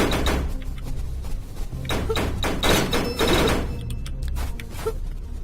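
Rapid revolver shots in the video game Storms of Eos, a dense run of sharp cracks and thuds fired at close range, loud and continuous with layered game effects, tapering into a few scattered bursts near the end.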